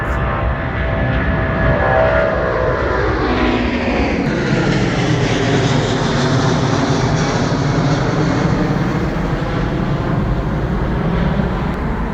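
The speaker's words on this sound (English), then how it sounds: "Those American airliners are ginormous." At Heathrow airport, a large American airliner's jet engines roar loudly and continuously, with a sweeping tone shift early on as the aircraft passes nearby.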